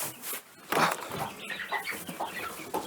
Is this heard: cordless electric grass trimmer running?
no